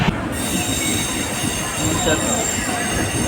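A moving train rumbles steadily nearby, with metallic wheel squeal and continuous rail noise throughout.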